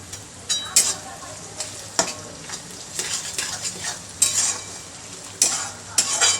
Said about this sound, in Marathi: टोमॅटो पण चांगला परतून घेऊया.